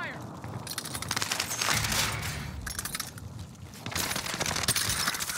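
Gunfire crackles through a Call of Duty: Warzone match, bursts of shots and impacts coming in dense uneven volleys over about five seconds, moderately loud, with a brief dip in the middle.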